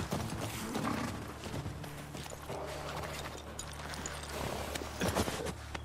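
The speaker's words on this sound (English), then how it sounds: "You can tie Shimmer up here." Shimmer the horse walks with a steady clip-clop of hooves in The Last of Us Part II, a string of soft, even steps over a low ambient drone lasting several seconds, with a few louder hoof falls near the end.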